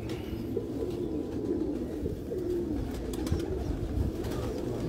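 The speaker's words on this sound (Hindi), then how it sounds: "अलीम भाई देख लें ज़रा ये कबूतर" Several Heera Laal breed pigeons coo in low, rolling murmurs, overlapping steadily throughout, with faint rustling and a few soft clicks in the background.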